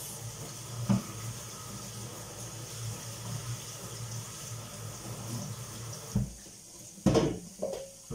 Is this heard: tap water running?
yes